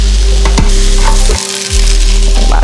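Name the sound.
peppers sizzling as they fry in a pan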